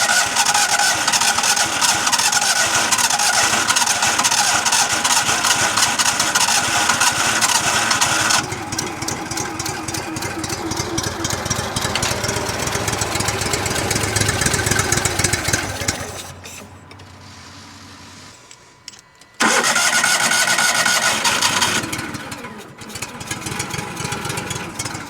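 A Palfinger PK12000 knuckle boom truck engine with an old ignition switch cranking and running, loud close mechanical clatter and whine, a drop to quiet, then a restart roaring back up.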